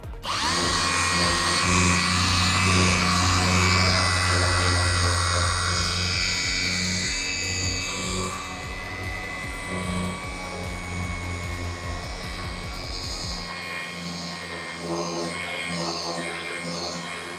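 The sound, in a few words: battery-powered polishing machine running at medium speed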